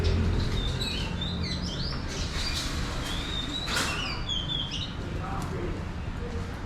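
Small birds chirp and tweet in short, scattered calls in a Chinatown alley, moderately close over a constant background hum of the surroundings.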